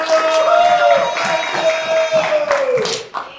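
An audience at a comedy show applauds and cheers for the performers, with dense clapping and whoops close by, tapering off after about three seconds.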